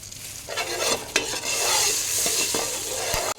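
Cumin, cinnamon and bay leaf sizzle in hot oil, a close bright frying hiss punctuated by a few stirring clinks against the pan.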